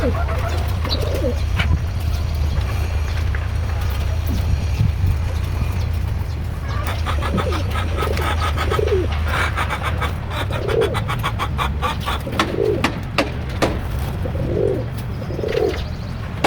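Paired pigeons coo repeatedly in a loft or cage, their soft rolling calls recurring every second or two over a steady low background hum, with faint chirps higher up and no speech.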